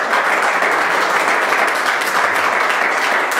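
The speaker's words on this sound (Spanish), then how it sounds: "Yo no sé si tú le puedes darle un aplauso al Rey de Gloria" Sustained audience applause at a church service, a dense even wash of many hands clapping, loud and steady throughout with no pause.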